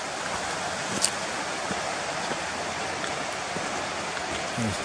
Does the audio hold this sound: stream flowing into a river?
yes